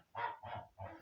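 Geese in a poultry yard give three short nasal honks in quick succession, close and fairly loud with no other sounds.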